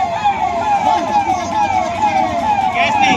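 A fire engine siren wails at the scene of a fire at the Mahakumbh in Prayagraj, loud and close, with its pitch sweeping up and down in repeated rising and falling cycles.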